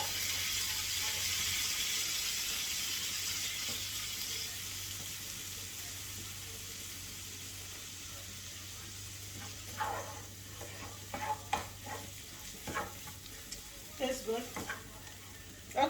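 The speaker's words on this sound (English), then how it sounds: "You stir, let it bubble away." Pork pappardelle sauce bubbles over medium heat with a soft, steady hiss. After about ten seconds, clustered clanks and scrapes of stirring break in, close and without talk.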